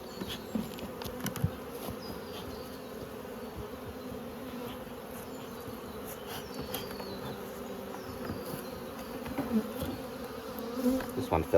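Honey bees buzz steadily around the frames of a five-frame nucleus hive being moved into a nine-frame box at an apiary in Coramba, a continuous close insect drone with individual bees flitting past the listener.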